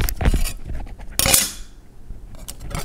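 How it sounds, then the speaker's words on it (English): Metal dice dropped and clinking on bathroom tile, heard close up as several sharp bright chinks in separate bursts, with a short ringing tail after the loudest impact. "Definitely metal. You can hear that chinking sound."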